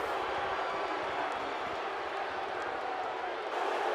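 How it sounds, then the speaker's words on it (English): A dense wrestling arena crowd at WrestleMania in the video game WWE 2K18 roars steadily throughout, a loud continuous wash of noise with a faint speaking voice underneath. "Jinder Mahal taunting in front of the crowd of WrestleMania."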